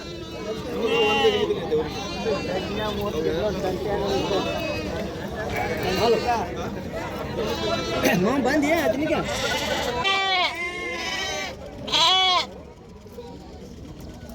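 A flock of sheep and lambs bleating repeatedly at a livestock market in Athani, many overlapping calls near and far, with people talking among them.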